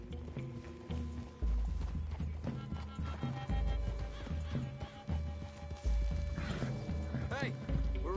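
Horses in a video game clip-clop along at a steady walking pace through trees, with occasional neighs and whinnies over a background of game ambience, and voices talking over the hoofbeats.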